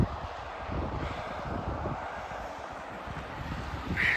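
Wind roars steadily through a snowstorm in a continuous, fairly soft rushing wash with gusty swells, and no voices over it.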